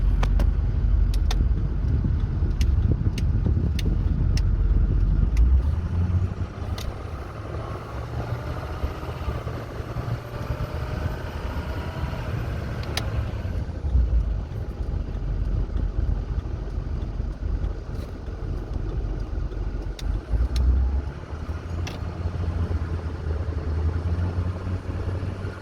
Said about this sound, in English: The boost sounds good. You can hear it building PSI like it's supposed to.